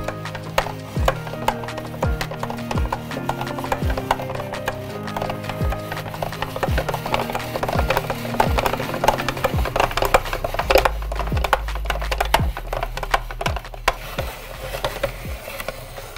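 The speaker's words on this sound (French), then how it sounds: "Alors la lame va couper en amont le concombre et ensuite, l'autre lame revient par derrière pour le couper de nouveau en tranches." A spiral vegetable cutter slicing a cucumber, rhythmic knocking strokes of plastic and blades with crisp slicing noise repeating roughly every second, close and fairly loud, with a heavier low thump near the end.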